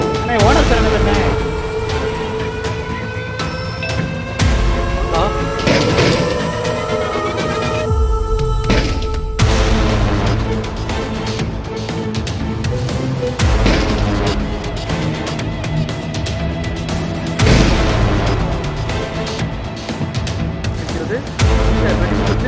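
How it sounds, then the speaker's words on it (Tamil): Firecrackers keep going off after an explosion accident at a fireworks factory, a dense, loud, continuous barrage of cracks and booms with no letup, while a reporter talks over the noise. "பட்டாசு வெடித்துக் கொண்டிருப்பதை இங்கு பார்க்க முடிகிறது."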